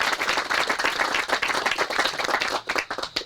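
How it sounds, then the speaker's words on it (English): Steady clapping and applause from an audience at a San Ramon ceremony, a dense, even crackle of many hands that holds for a few seconds before thinning out near the end. "Let's give them a big round of applause."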